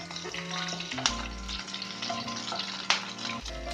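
Curry leaves and slit green chillies fry in hot oil, a close, continuous sizzle broken by a couple of sharp pops and crackles, with faint stirring and steady hum beneath.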